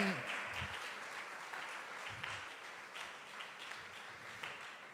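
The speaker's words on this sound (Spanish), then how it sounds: "¿Cuántos le dan aplausos y reconocimientos a Él?" Steady applause from a church congregation during a Spanish-language sermon, a dense, even wash of clapping heard at a moderate distance, with faint voices mixed in.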